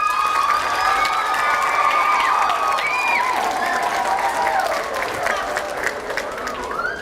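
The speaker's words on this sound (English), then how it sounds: "Big round of applause." An audience at a school event applauds with a sustained wave of clapping mixed with some cheering and children's shouts, steady for several seconds and tapering slightly at the end.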